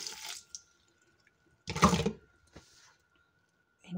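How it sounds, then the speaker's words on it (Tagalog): Running water pours over cooked macaroni noodles being rinsed for a macaroni salad, coming in short splashy bursts with a louder gush in the middle and quiet gaps between. "At ating banlawan muna yan."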